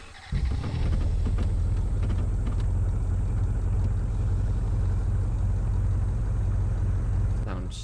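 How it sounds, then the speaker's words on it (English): A video game car engine, extremely loud, starts with a sudden roar and then holds a steady, heavy low rumble close by, cutting off abruptly at the end. "for some reason this car is extremely loud"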